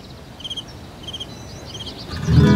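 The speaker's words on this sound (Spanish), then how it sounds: "Los grillos cantaron un tributo en su desvelo." Crickets chirping at night in short, high, repeated trills spaced evenly apart over a soft background hiss, before a louder low sound rises at the end.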